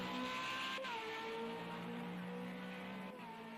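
An FR35 race car sweeps past on the Monza circuit. Its engine note is loud and steady and drops in pitch as it goes by, with a faint tire hiss underneath and a brief second pitch shift near the end.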